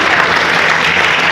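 A loud, dense crowd applauds without a break to welcome a former Haryana minister at the inauguration ceremony of a senior secondary girls' school in Kahnaur.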